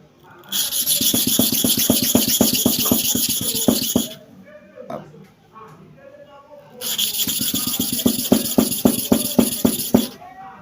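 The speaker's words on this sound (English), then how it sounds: "I'm now going for the bottom clipper blade, that is a company blade. I'm sharpening at the angle of 45 degrees again." A Starex bottom clipper blade is sharpened by hand at a 45-degree angle, making quick rhythmic rasping strokes in two bursts separated by a short quieter pause.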